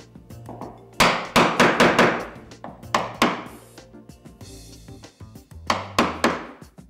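A hammer strikes a chisel while cutting door hinge recesses into a wooden frame, in sharp close blows that come in quick bursts of several hits with short pauses between them.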